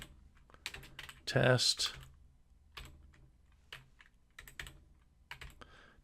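Keys clatter on a computer keyboard while code is typed, brisk irregular taps with a short rapid burst, and someone speaks briefly over the quiet clicking.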